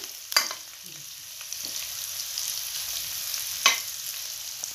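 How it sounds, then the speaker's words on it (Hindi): Chopped onion and green chilies frying in a pan give a soft, steady sizzle, broken by two sharp scraping clatters of a spoon stirring them, close and fairly quiet. "एक छोटी प्याज दो हरी मिर्च ये भी हम इसमें डाल देंगे कैसे चलाते रहना"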